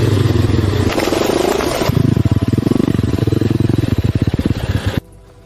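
A dirt bike motorcycle revs loudly close by, its engine rising into a rapid rattling pulse with clattering, then cutting off abruptly near the end.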